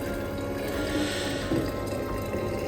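Hot water pours into a carafe, a close, continuous liquid trickle and fill with small splashy bursts, heard alone without talk.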